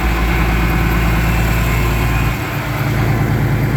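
A big orange vehicle with eight new tires and several leaks idles with a loud, steady, low engine rumble and even vibration throughout, with no voices.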